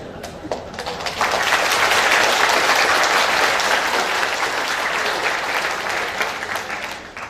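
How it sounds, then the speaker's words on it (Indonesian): Audience applause fills a Buddhist Dharma talk, swelling quickly to a sustained, dense round of clapping from a sizable crowd that holds steady for several seconds before tapering off. "Kenapa tepuk tangan?"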